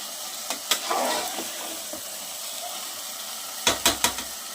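Minced mutton being sautéed in a cooking pot for mutton keema, with a faint steady sizzle punctuated by a few sharp scraping stirs, the loudest bursts clustered near the end.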